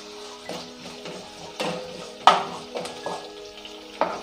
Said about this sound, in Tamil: சேர்த்துட்டு இதை நல்லா வதக்கிடுங்க. வெங்காயம் நல்லா வதங்கி வரணும்.